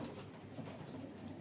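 Young highflyer pigeons coo softly in a loft, low murmuring burbles repeating faintly under a background hiss.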